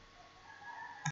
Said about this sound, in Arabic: جو كليك